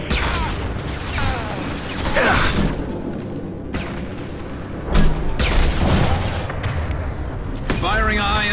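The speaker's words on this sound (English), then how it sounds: "Firing a high impact shot." A high impact shot goes off in Mass Effect 2, one of several loud booming game weapon blasts amid continuous battle noise, layered with spoken game dialogue.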